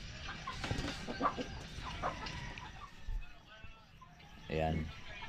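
Free-roaming backyard chickens cluck softly at a distance, with one louder, harmonic call near the end, under faint background voices and outdoor noise.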